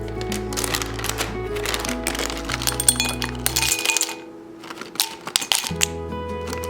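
Cocoa butter wafers being weighed out for a homemade sugar scrub clink in a scatter of light, brittle ticks over steady background music.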